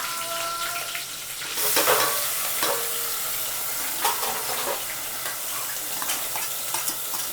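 Cumin, curry leaves and chillies sizzle in hot oil for a samosa filling, a steady bright hiss broken by several sharp spits and pops as the spices are stirred, with no talking.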